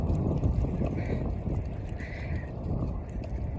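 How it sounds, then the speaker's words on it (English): Steady, heavy wind buffeting the microphone, a continuous low roar with slight gusting throughout. "Ooh, it's windy today."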